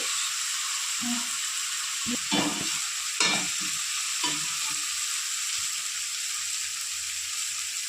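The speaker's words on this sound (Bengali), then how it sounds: "আগুনটা একটু লো করে আমি এটা কষাতে থাকবো।" Spice paste sautéing in a pan over a low gas flame, a constant soft sizzle broken by a few scraping stirs of the spatula, close up with no talking.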